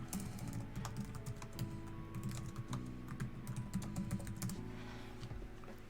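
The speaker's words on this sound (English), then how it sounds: "And if I can freaking type while I'm doing this." Steady, rapid clatter of computer keyboard typing up close, with dense irregular keystrokes over a low background hum, during preparation for a competitive Pokémon match.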